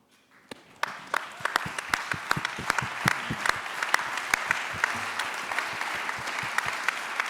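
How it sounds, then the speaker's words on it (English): An audience applauds a panel, starting with a few sharp, separate claps that quickly swell into steady, full applause. "Let's give this panel a big round of applause"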